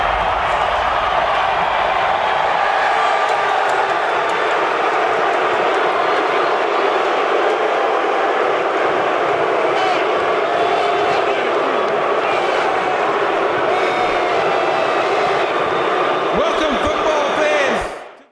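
A huge crowd at the NFL draft in Dallas roars with sustained booing directed at Roger Goodell, a dense, loud wall of voices lasting many seconds before cutting off abruptly.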